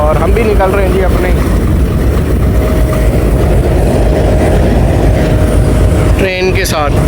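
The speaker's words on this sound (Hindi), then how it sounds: "चले जी हमारी ट्रेन का भी डिपार्चर विसल हो गया है और हम भी निकल रहे हैं" Passenger train pulling out of a station on the Gujrat to Attock City line, a steady loud rumble of rolling stock with a whistle-like tone sustained through the middle and a brief squealing burst near the end, with voices talking underneath.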